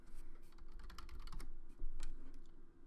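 A cd command being typed on a computer keyboard: a quick, close run of clicky keystrokes in an uneven rhythm over a steady low hum.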